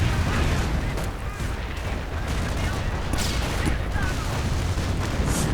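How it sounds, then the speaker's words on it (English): Calliope rocket barrage in a WWII strategy game, a dense continuous roar of overlapping launches and distant booms with scattered cracks of gunfire and bursts throughout, loud and sustained. "More Calliope rockets flying out."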